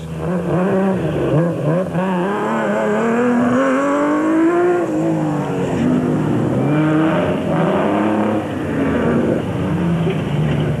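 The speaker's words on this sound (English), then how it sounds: "On board with Probler and Harrington in the Nissan hardbody Super Truck as they slip and slide their way around the route." Engine of a Nissan Hardbody Super Truck recorded on board during an off-road endurance race, a loud continuous drone rising and falling in pitch as the truck revs and slides over rough terrain, with no talk.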